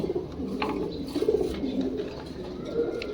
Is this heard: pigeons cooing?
yes